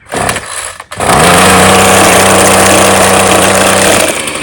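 A 2-cycle gas string trimmer is cranked by pull cord, a brief rasp of the pull followed by a pause, then the small engine catches and runs loud and steady with a buzzing drone, easing off slightly near the end.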